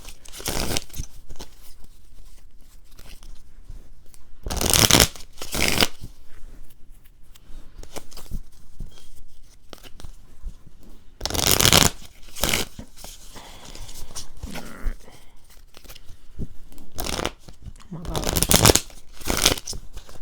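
Tarot cards shuffled by hand in loud, bursty riffles and scrapes, several separate rounds spread over the stretch, with a voice talking between and over them.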